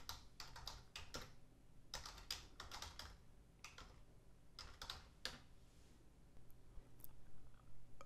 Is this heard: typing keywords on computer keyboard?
yes